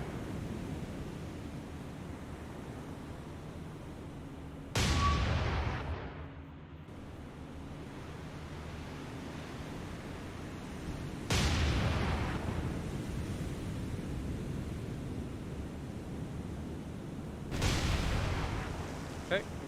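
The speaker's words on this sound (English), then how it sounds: "San Diego, go ahead and pop off a few rounds of star shells for me." Naval guns firing star shell rounds in War on the Sea's Operation Watchtower come as three heavy, booming blasts spaced several seconds apart, each with a long rumbling tail over a constant wash of sea noise.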